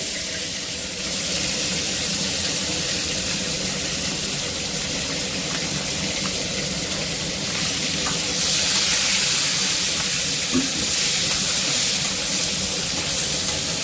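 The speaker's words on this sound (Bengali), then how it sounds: "শুটকিটা ধুয়ে টুয়ে রেডি করে রেখেছিলাম, এটাকে একটু ভেজে নিচ্ছি আগে।" Dried fish (shutki) frying in a pan, a steady hiss of sizzling oil running throughout with no talk, loud and close.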